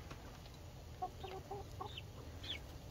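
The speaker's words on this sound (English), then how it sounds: "here's our latest chicken update" Backyard chickens clucking nearby, a run of short, soft clucks and a few higher calls spaced over a few seconds against a quiet outdoor background.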